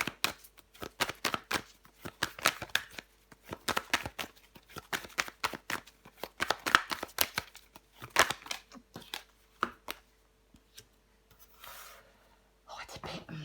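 Tarot cards are laid out and handled on a table, giving a close series of crisp card snaps and slides in an uneven rhythm, followed by softer rustling and a faint voice.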